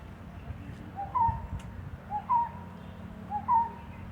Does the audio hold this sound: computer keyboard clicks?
no